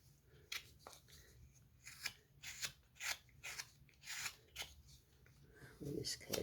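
Knife blade cutting into wood while carving a ball in a cage, a quiet close series of short scraping, slicing strokes in an irregular rhythm with a faint hum underneath.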